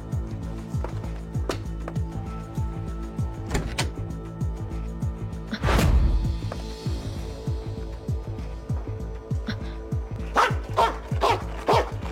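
A dog barks repeatedly in quick bursts, some sharp yips among lower barks, with a louder burst midway, against a busy indoor background.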